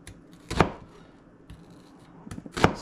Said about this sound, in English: Let's get this diced up here.